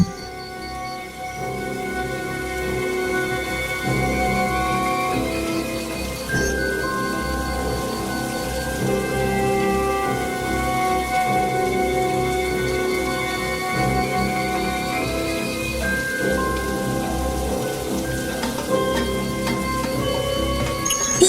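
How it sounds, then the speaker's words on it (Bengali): Heavy rain pours steadily on a festival evening on the way to a Durga Puja pandal, a dense hiss that runs the whole time beneath a bed of sustained musical tones. "যেহেতু অনেক বৃষ্টি হচ্ছিল।"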